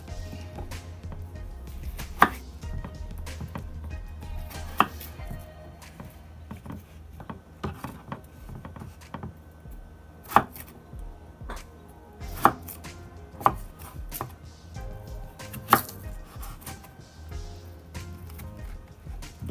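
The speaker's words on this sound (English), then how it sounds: "So we're gonna cut our potato all the way in the middle, just like that, and then we're gonna cut them in wedges." A knife chops potatoes into wedges on a cutting board, giving sharp, irregular knocks that stand out over quiet kitchen background.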